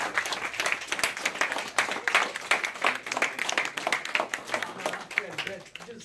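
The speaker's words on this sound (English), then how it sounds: "I just want you guys to give him a big round of applause" An audience gives a big round of applause for a guest at a testimony gathering, a lively spread of handclaps heard at a moderate distance. The clapping is dense and keeps going at an even pace.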